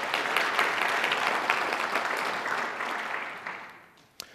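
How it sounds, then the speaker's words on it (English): An audience at an opening ceremony gives a sponsor a round of applause: a dense, even clatter of many hands that slowly thins and fades, ending with a single sharp knock. "Please give them a round of applause."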